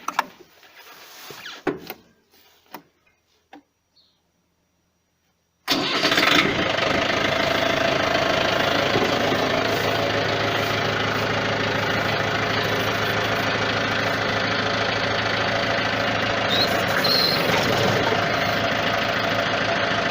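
A Yanmar FX305 tractor runs with a rotary tiller fitted, a steady engine drone and mechanical clatter holding evenly for most of the stretch after a few seconds of quieter knocks and near silence.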